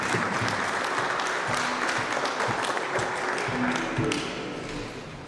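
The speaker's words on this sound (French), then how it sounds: "Un peu d'applaudissements s'il vous plaît." An audience at a public debate on secularism applauds steadily for several seconds, a dense, close patter of clapping that slowly thins toward the end.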